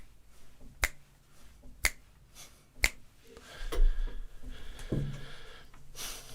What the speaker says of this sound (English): you need to be able to snap your fingers